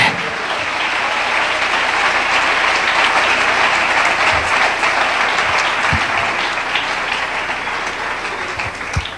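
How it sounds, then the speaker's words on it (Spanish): A church congregation applauding together, a dense sustained clapping that fills the room steadily for the whole stretch, with a few louder thumps mixed in. "Denle un aplauso al Rey"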